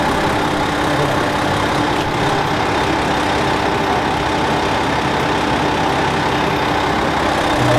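A KiHa 28 or KiHa 52 diesel railcar on the Isumi Railway idles with a steady, loud engine rumble that carries on unbroken throughout, without talk.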